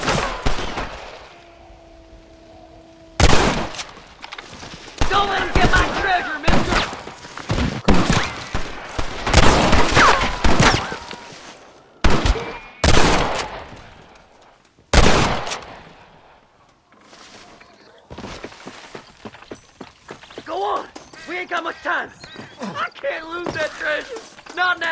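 Gunfire in Red Dead Redemption, with loud sharp single shots and rapid bursts spread through the scene, mixed with voices talking and shouting between the volleys.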